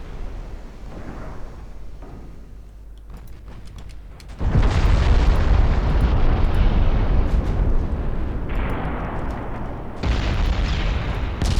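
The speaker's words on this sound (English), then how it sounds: "Got a torpedo hit in also." A torpedo strike on a warship in the naval battle game Ultimate Admiral Dreadnoughts, set in a 1934 Italian campaign. A dull rumble is followed by a sudden loud, sustained roaring blast with a second surge near the end, and no voices.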